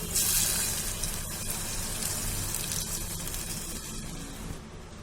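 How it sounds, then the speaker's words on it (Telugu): Water pours into a hot frying pan of sautéed ingredients for macaroni pasta, a loud gushing splash at first settling into a softer bubbling hiss, close up with no voices. "ఇవి ఈ విధంగా ఫ్రై అయిపోయాక దీంట్లో నేను వాటర్ పోసుకుంటున్నాను."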